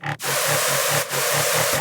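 Loud, gritty dubstep screech synth with a bright high-shelf EQ boost adding airy top end, droning continuously with a pulsing wobble rhythm and two brief dropouts.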